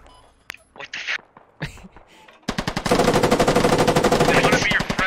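Rapid automatic machine gun fire in a military squad video game, beginning abruptly after a few scattered sounds and continuing as a steady, loud rattle of closely spaced shots to the end, with brief voices before the burst.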